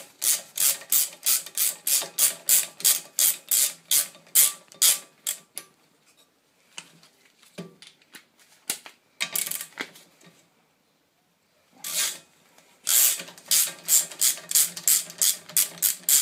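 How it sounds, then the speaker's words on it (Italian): Nuts on a Vespa scooter hub being loosened to take off the shock absorber, a rapid metallic ratcheting of a tool in fast repeated bursts, close and loud, with short pauses between runs. "Andiamo ad allentare questi dadi e andiamo a togliere l'ammortizzatore."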